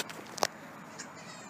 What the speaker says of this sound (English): But I did meet a friendly cat today, so here's a video of that.